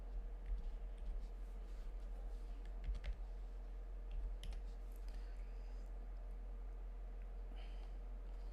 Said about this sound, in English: I am typing again and again wrongly.